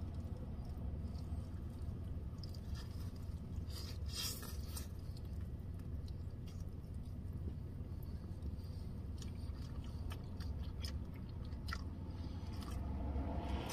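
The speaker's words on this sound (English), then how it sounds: "Let me go in for the first chew." Quiet, close chewing of a bite of pizza, soft moist crunches and bites repeating over a low steady background hum.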